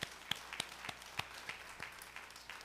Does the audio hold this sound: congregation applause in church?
yes